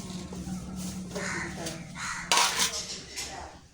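Cut taro and pumpkin tipped into a pressure cooker, giving soft clattering knocks of pieces and a utensil against the metal, a louder clunk near the end, alongside a voice.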